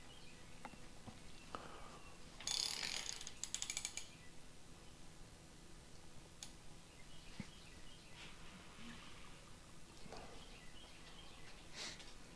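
A ratchet wrench turns an engine crankshaft, producing a quiet burst of rapid clicking followed by faint mechanical creaks and taps in a still workshop.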